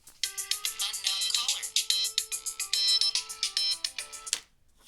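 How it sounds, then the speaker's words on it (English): A melodic electronic phone ringtone plays a bright repeating tune of quick notes for several seconds, then cuts off abruptly. "sorry about my phone ringing"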